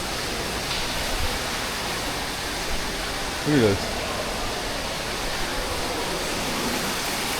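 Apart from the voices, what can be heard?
small waterfall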